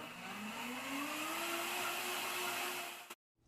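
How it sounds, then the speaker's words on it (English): A Vitamix blender motor runs in a steady loud whir, its pitch rising slightly as it spins up, then it cuts off abruptly after about three seconds. "Depending on how the blades are designed, they have the power to pull the ingredients downward towards the blades, as the Vitamix shown here."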